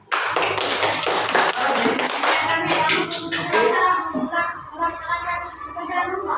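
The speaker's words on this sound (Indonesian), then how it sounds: "Tepuk tangan dulu." Children in a classroom clap their hands together in a dense burst of claps that thins out, with kids' voices chattering underneath.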